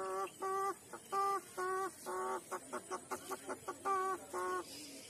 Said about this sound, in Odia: ଅଷ୍ଟ୍ରେଲିଆ କୁକୁଡ଼ା କେତେ ଆବାଜ